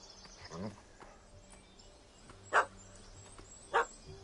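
Dog in The Witcher 3 video game, heard as two sharp, separate barks at moderate distance after a softer yelp early on, set against quiet ambient game background.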